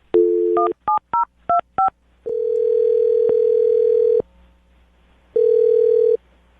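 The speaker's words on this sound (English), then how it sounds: "I'm going to dial the phone number right now and see if we can find out what's up" Telephone keypad tones beep in a quick series as a number is dialed, followed by a long steady ringback tone, a pause, and another long tone; close and clear, no voices.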